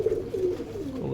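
Domestic pigeons of local and foreign breeds kept at a home loft in Kushtia, giving a low, rolling coo that rises and falls in a few close, clear phrases.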